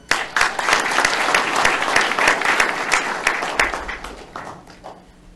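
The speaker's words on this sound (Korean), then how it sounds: "여러분께 박수 한번 부탁드리겠습니다." A seated audience at an outdoor special lecture in a public plaza breaks into loud, dense applause that holds steady for several seconds, then thins out and fades toward the end, with faint voices beneath.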